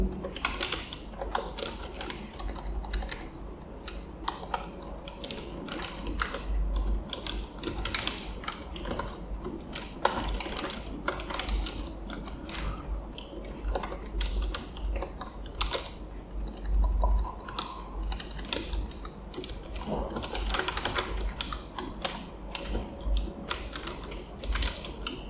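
A computer keyboard is typed on steadily while JavaScript array code is entered, giving dense, continuous clicking close by for the whole stretch, with someone speaking quietly at times.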